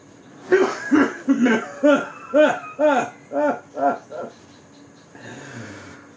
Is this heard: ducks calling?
no